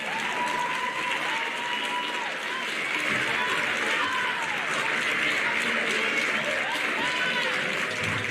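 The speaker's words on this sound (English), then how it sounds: "Could you please stand up and give them a round of applause?" School auditorium crowd at an 8th grade awards event stands and applauds band students, sustained loud clapping with cheers and whooping voices mixed in.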